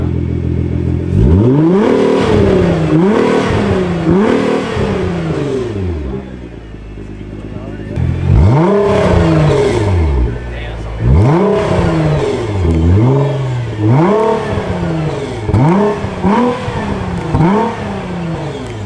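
A Nissan GT-R with its exhaust valves open revs hard in a series of loud, close blips, each rising and falling sharply, with a brief lull mid-way before more aggressive revving.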